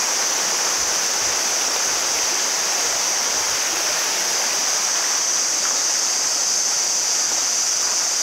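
Water rushes steadily through a Dutch colonial-era irrigation channel feeding rice fields near Tiu Kelep Waterfall in Senaru, Lombok, a continuous close broadband roar with no voices.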